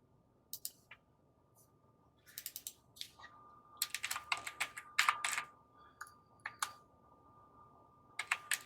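Computer keyboard typing in bursts of quick, close keystrokes with short pauses between, fairly quiet against a soft background hum.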